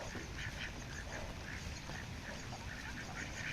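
Ducks enjoying floodwater quack in a scattered, repeated chorus, faint and somewhat distant over a steady noisy outdoor background.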